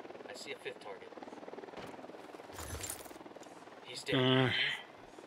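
A helicopter in the Ghost Recon Wildlands video game gives a continuous low rotor thrum under people talking, with a brief louder burst near the end.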